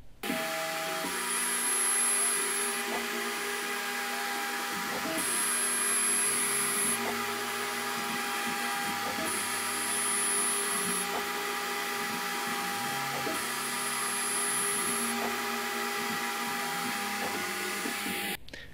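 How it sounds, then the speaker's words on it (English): A CNC router fitted with a 3 mm router cutter machining a guitar nut, a steady loud whining drone with tonal shifts and repeated high-pitched passes as the cutter moves, heard alone and close. "After finishing up with the logo, the next step will be the nut using a 3 mm"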